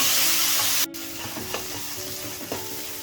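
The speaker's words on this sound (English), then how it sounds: "I've been frying this onion for almost 3 to 4 minutes on high flame" Chopped onion frying over a high flame, a steady bright sizzle with soft stirring scrapes, close and moderately quiet, no voices.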